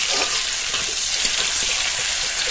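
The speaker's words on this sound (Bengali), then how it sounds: "টমেটোটা 1 মিনিট ভেজে নিয়ে" Chopped half-ripe tomato fries in a pan with a steady, close hissing sizzle and soft bubbling crackle, continuous throughout, with no talking.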